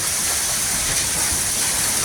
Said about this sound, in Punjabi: ਸਾਡੇ ਇਲਾਕੇ 'ਚ ਕਿਤਨਾ ਮੀਂਹ ਪਿਆ